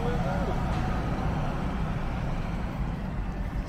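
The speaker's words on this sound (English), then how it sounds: "Loads of buses in and out of this place" Buses and other traffic rumbling in and out at a site in Somerset, a continuous low engine drone with passing vehicle noise under conversation.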